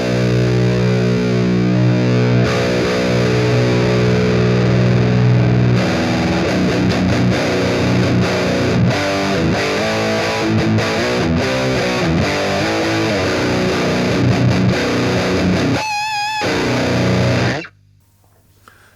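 A heavily distorted electric guitar through an analog amp's distortion channel plays loud, sustained chords and riffs for about seventeen seconds, then cuts off abruptly into near silence.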